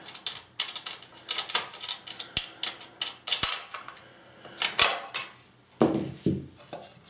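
Metallic clicks and clinks of a Phillips screwdriver turning a wing nut on a 500 watt halogen work light, irregular sharp taps and scrapes spaced through the clip, close and fairly loud.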